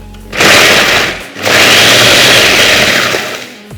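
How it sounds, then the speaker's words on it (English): A blender or food processor blitzes graham crackers into fine crumbs, two loud whirring bursts with a brief pause between them, close up and without talk. "We'll pop them here into our blender or food processor."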